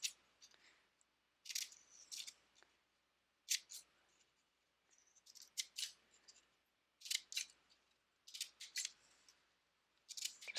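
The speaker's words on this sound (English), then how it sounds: "I'm going to cut strips along just one side of my paper." Scissors snip through strips along one side of a sheet of paper during a paper collage craft, in repeated bursts of crisp cutting separated by short pauses, close and fairly quiet with no talking.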